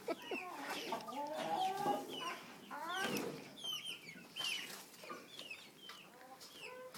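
Chickens clucking inside a chicken coop, a cluster of close, fairly quiet squawks and chatter in irregular bursts, with no talk over them.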